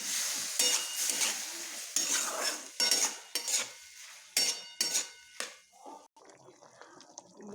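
Chickpeas fry in a pan with ground cumin and a little chili while a utensil stirs and scrapes in irregular bursts, with a faint sizzle between the strokes.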